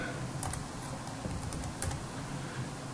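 Fast typing on a computer keyboard, a steady patter of small clicks with a few sharper key strikes, close and continuous over a noisy background.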